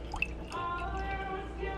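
Milk pours into a frother up to the foam line, a soft close trickle with a faint rising tone over about two seconds.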